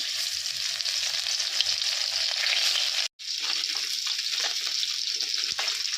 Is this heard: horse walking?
no